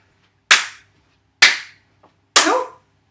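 Three sharp, loud hand claps during a SH'BAM dance fitness routine, spaced about a second apart with the last one slightly longer and ringing, no voices.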